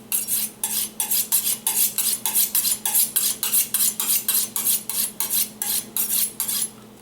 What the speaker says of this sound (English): Sharpening steel, titanium knife.